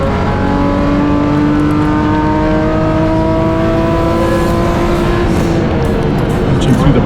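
BMW M Performance Parts race series cars race on track at a motorsport festival, with loud sustained engine roar and rising, falling revs under steady commentary.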